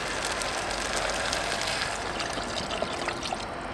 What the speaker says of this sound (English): So, throw in some water.